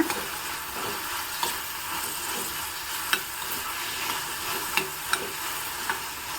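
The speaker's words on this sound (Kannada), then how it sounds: "ಇವಾಗ ಸ್ವಲ್ಪ ಬಾಡಿಸ್ಕೋಬೇಕು ಸ್ವಲ್ಪ ಹಸಿ ವಾಸನೆ ಹೋದರೆ ಸಾಕಾಗತ್ತೆ" Masala sautés in a pan for a traditional Mysore Brahmin-style dish, giving a constant close sizzle with occasional crisp clicks from stirring. Nobody speaks.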